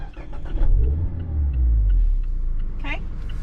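A 2021 Mazda MX-5 Miata engine idles after being restarted, a low steady rumble close by with a brief rise, while people talk over it.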